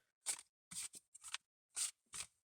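A series of short, crisp riffling bursts of tarot cards being shuffled, about six of them in an uneven rhythm, close and fairly quiet.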